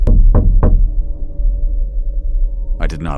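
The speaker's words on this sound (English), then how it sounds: "He came up the path and knocked 3 times." Three sharp knocks on a door land in quick succession, close and loud, then give way to a low lingering hum before a muffled bump at the end.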